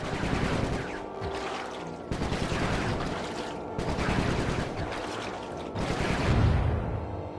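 Dense, sustained gunfire from the video game Sly 3: Honour Among Thieves, rapid overlapping shots in loud bursts broken by brief gaps, with a heavier boom near the end.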